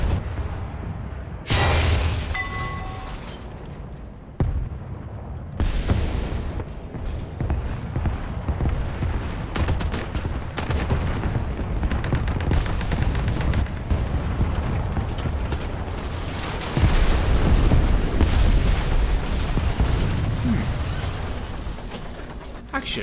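Tank battle in War Thunder: heavy cannon blasts and booming explosions punctuate a continuous rumble of engines and clanking, creaking tank mechanisms, loud and close, with several sharp bursts spread through the stretch.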